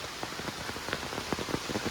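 Steady heavy rain pours down outdoors near a house, a dense continuous hiss with scattered louder drop impacts on surfaces, close and fairly quiet, with no voices.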